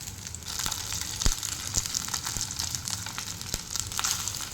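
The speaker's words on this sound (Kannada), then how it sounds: "ಇನ್ನು ಈ ಕಟ್ ಮಾಡಿದಂಥ ಈ ಪತ್ರೊಡೆಯನ್ನು ಇದರಲ್ಲಿ ಹಾಕಿ ಫ್ರೈ ಮಾಡೋದು." Colocasia leaf rolls, patrode, sizzle in hot oil on a pan, a faint continuous crackle and hiss with occasional soft pops, heard alone without voices.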